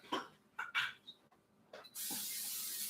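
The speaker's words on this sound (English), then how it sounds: "I'm going to spray the skillet." After a few soft knocks and clatters, a steady, loud hiss of cooking spray onto a skillet begins and continues to the end.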